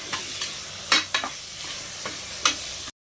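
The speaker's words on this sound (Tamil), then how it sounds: "தக்காளி வந்து ஒரு 4 தக்காளி போட்டு நல்லா வணக்கி விட்ருங்க." Four medium tomatoes are stirred and sautéed in a hot pan: soft sizzling runs underneath while a spoon scrapes and knocks against the pan in a few sharp, separate strokes, close up and with no voices.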